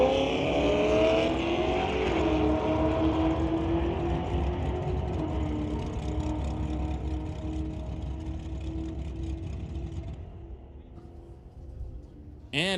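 Chevrolet S10 and 5-liter Ford Mustang drag racing, engines howling loud with rising and shifting tones, then the roar fades as the cars pull away, ending in near quiet before a sudden burst at the close.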